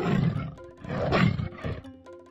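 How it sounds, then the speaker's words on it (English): A tiger roars loudly and close in two long, rumbling bursts with a brief pause between, then a lower growling tail, with no voices over it. "Tiger."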